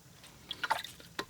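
Watercolor paint flicked and splashed onto paper, a few faint, soft wet spatters in quick succession and then one more after a short pause, quiet and close with no talking.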